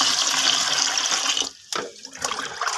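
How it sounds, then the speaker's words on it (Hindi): Water pours into a container for about a second and a half as a steady splashing rush, then stops, with a few brief trickles and splashes afterward, close and clear with no voices. "ये पानी डालूँगा।"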